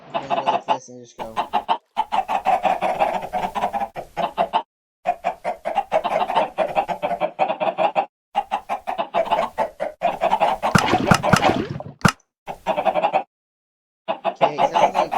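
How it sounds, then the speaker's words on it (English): Chickens cluck loudly and continuously in an automatic chicken farm inside a video game, the close, choppy bursts broken by a few short silences. "Chicken."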